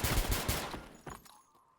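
A quick burst of gunfire in Escape from Tarkov, several loud close shots in rapid succession that trail off into echoing fade and near quiet.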